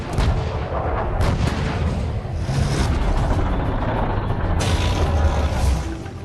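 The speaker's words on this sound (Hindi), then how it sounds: "60 बोफोर्स तोपें पूर्वी लद्दाख में LAC पर मौजूद हैं।" Bofors artillery guns fire on the Line of Actual Control in eastern Ladakh, with heavy, continuous booming and deep rumbling blasts that fill the whole stretch loudly and without pause.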